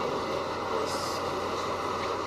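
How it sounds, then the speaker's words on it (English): An R68 B train on the New York City subway rumbles steadily up close, a continuous dense roar of wheels and car noise with a brief rise in hiss partway through. "R68 B train"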